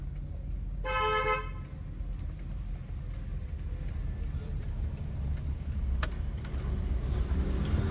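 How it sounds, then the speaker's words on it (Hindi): A single long car horn honk sounds briefly near the start over steady engine rumble and road noise inside a moving car during a driving lesson. "लॉन्ग हॉर्न प्रेस करो"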